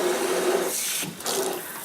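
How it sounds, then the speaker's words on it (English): Cold water runs from a tap into a basin of hot soaking water for washing hats and gloves, a steady broadband rush that briefly dips near the middle then resumes, close and fairly loud with no talk. "we're going to turn off the hot water and we're going to put on the cold water"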